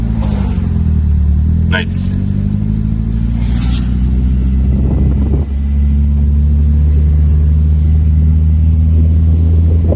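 Car engine idling low and steady, then gently pulling away as a learner driver releases the handbrake and clutch during a driving school lesson; a continuous close rumble with brief voices speaking over it.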